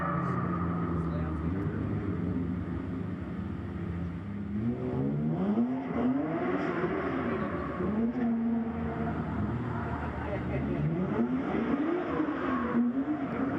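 A drift car at Agassiz Speedway, running a loud unmuffled exhaust during a grassroots drifting competition, revs up and down in rising and falling sweeps at middle distance while people talk over it.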